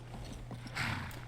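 Horse hooves clip-clop in Skyrim, a quick run of soft, even footfalls close by, with a brief brighter rustle of game sound partway through and no voices.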